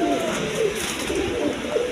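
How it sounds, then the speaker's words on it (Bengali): Pigeons of various breeds at a farm coo in soft, overlapping, throaty rolls that repeat steadily under a constant hum of background noise. "এইখানে দেখেন বিভিন্ন বিটের কবুতর আছে"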